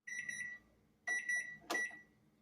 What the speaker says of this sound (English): so our timer went off, has steeped for 6 minutes